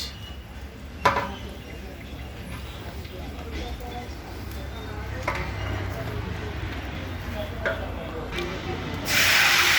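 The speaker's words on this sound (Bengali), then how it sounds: "এখন আমরা মাংস ছেড়ে দিলাম" Meat hits hot oil in a large pot where potatoes have just finished frying, producing a steady soft sizzle with occasional utensil clinks and a louder hiss burst near the end.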